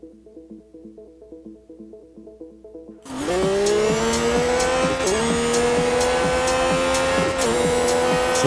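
The Mercedes-AMG F1 W11 EQ Performance races along the Monza straight in Real Racing 3, its engine entering abruptly at a loud, sustained high-pitched scream with gear shifts after a quieter music-like intro.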